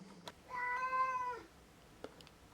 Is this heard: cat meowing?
yes